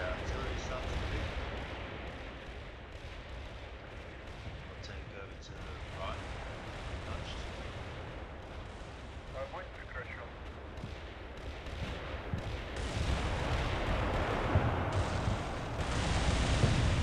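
Artillery shells land during a Cold War tank battle video game, a continuous rumbling barrage of distant booms and crackling impacts that swells louder toward the end, with no voices over it.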